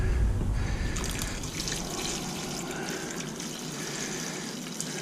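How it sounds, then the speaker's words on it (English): Water carefully poured off settled silver powder into a container, a soft continuous trickle and pour with a low rumble at the start, steady and close with no voices. "the water that's in here, I'll pour off into there as well, carefully, without disturbing it"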